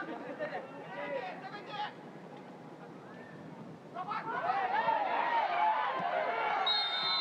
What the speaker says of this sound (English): Well, the crowd, you can hear their reaction to the foul